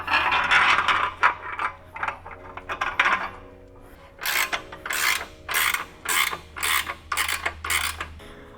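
An open-ended wrench turns a tight bolt on an extruded aluminum bike rack, giving a series of close, crisp metallic ratcheting clicks. The clicks are evenly spaced and loudest in the second half.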